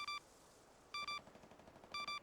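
Automatic gunfire in a video game: three short rattling bursts about a second apart, faint and distant-sounding against a quiet background, with no talking.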